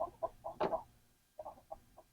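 An 11-week-old American Buckeye rooster clucks in short, evenly spaced soft bursts, one louder squawk in the middle, a pause, then more quiet clucks nearby.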